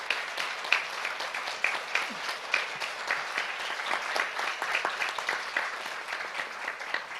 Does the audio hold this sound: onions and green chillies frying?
no